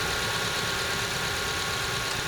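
A Suzuki Jimny engine idles at close range, warmed up ahead of an oil change, giving a steady, even running hum with no talk over it.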